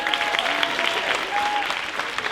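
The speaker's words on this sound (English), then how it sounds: "One more round of applause for Yin Yite" Brief burst of audience applause for a speaker at a high school event, a dense clapping texture with a few voices and a faint whistle-like tone within it.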